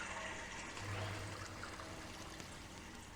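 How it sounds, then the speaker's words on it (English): Spring water runs through Los Tecajetes Park in Xalapa, a soft, continuous trickling and pouring that stays faint and even throughout, with no voices. "So peaceful there, running water everywhere."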